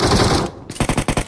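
Bursts of automatic gunfire from PUBG Mobile: a dense volley at first, then a short gap and six or so sharp, evenly spaced shots, loud and close with no talk over them.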